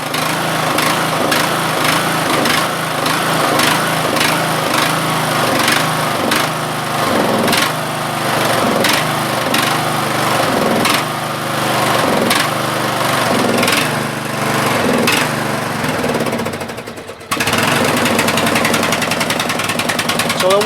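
A Craftsman LT1000 16HP 42-inch lawn tractor engine runs at full throttle, loud and close with a rapid, steady rattling drone, briefly dipping before picking back up.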